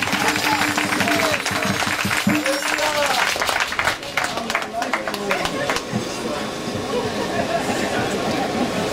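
An audience breaks into loud applause at an evening gathering, with cheering voices and people talking through and after the clapping.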